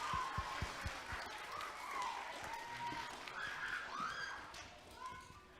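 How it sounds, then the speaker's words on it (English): Applause for a high school science demo group at a school event, faint and distant, with scattered claps and room noise mixed with indistinct voices and a few thumps. "Let's give another round of applause for our science demo group up here."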